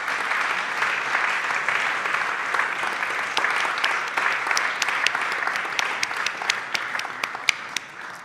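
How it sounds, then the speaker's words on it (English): Sustained audience applause at a European Maritime Day event, with individual claps popping out near the mic over a dense wash of clapping that holds steady for the whole stretch. "You can give them another round of applause."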